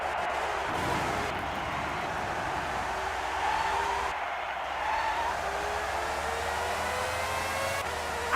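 Formula One car engine in the F1 97 racing game, a steady synthetic whine with pitch climbing through gear changes, moderately loud and continuous, with no talk.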